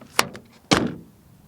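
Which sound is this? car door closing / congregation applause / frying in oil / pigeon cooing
car door closing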